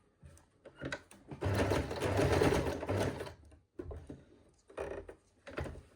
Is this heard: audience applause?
no